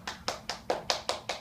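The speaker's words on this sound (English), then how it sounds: "Round of applause." Sharp, evenly spaced hand claps come in a steady run of about seven beats, faint and a little distant, as a school class applauds a student's presentation.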